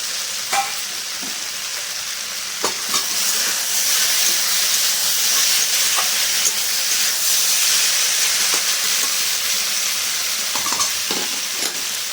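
Fried eggplant is stir-fried in a pan of mixed vegetable ghonto with prawns, giving a loud, steady sizzle and frying hiss broken by light scrapes and knocks of the spatula, with no voices.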